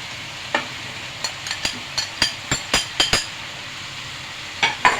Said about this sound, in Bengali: উল্টে পাল্টে নাড়াচাড়া দিয়ে ভালো করে কষিয়ে নেব।